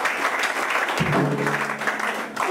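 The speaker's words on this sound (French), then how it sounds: "Applaudieren wir den Herrn." A congregation applauds at a church pastor's ordination ceremony, steady dense clapping throughout with a low hum or voice rising briefly in the middle.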